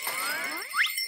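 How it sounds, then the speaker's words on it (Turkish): Small bells jingle and tinkle with bright, ringing overtones, a short shimmering burst that swells and fades. "Küçük canlar sesimizi duysun da kaçsın diye zil taktım."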